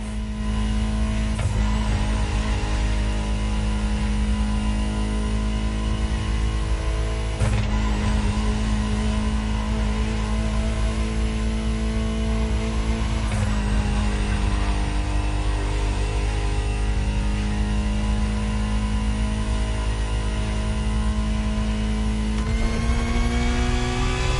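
A Ferrari supercar engine in The Crew Motorfest drones loudly and steadily at high revs, with brief shifts in pitch from gear changes punctuating the sustained roar, with no one speaking.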